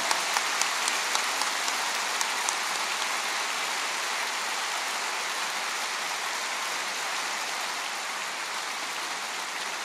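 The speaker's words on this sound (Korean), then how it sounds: "모두 환영해 축하의 박수로 맞이해 주시기 바랍니다." Congregation at a Yoido Full Gospel Church world mission conference applauding, a steady, fairly faint wash of clapping across the whole stretch with a few sharper claps near the start.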